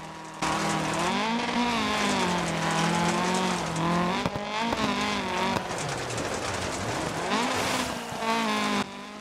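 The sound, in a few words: Lancia rally car engine in Dirt Rally video game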